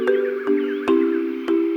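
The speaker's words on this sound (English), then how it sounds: "We've heard a lot of birds so far, different from where we were before." Birds call in Uganda with loud, nasal cawing notes, each held briefly and separated by sharp clicks, close and clear with no talking.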